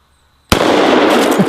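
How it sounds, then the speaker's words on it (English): After half a second of near silence, a double-barrel 1911 pistol fires two 230-grain bullets at once, giving one sharp, loud report that decays into a long rumble and echo. "we're firing 2 230 grain bullets every time we pull the trigger"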